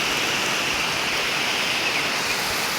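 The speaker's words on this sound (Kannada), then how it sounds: "ಮಳೆ ಬಂದಿದೆ" Steady, even rain hiss during an evening walk by paddy fields, a dense continuous wash with no breaks and no voices over it.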